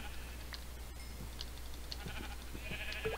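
Sheep in the Minecraft video game give a few short, faint bleats over a steady low hum, with no talk.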